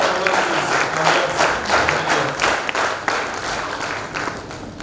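A hall full of alumni claps in a sustained round of applause in Pune, dense and even with scattered sharper claps, lasting several seconds without speech.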